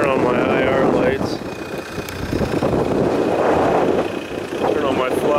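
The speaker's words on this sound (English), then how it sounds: "it's extremely windy" Strong wind buffets the microphone outdoors in loud, steady gusts, with a person talking over the roar.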